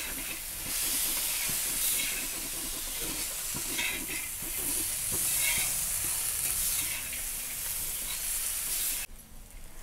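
Ridge gourd chutney ingredients with a little coriander roast in a pan on the stove, giving a steady close sizzle and hiss broken by scraping stir strokes, until the sizzle cuts off sharply near the end.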